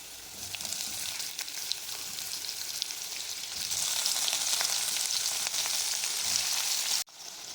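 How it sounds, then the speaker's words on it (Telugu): Paneer frying in a little oil with leaves in a pan over low heat, an even close sizzle that swells louder midway, ending in a brief clatter, with no speech. "సిమ్లో పెట్టుకొని పనీర్ వేసుకుందాం"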